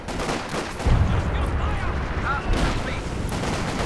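Battle noise in a WWII strategy video game: a dense, continuous rumble of gunfire and artillery blasts, with heavier booms standing out now and then.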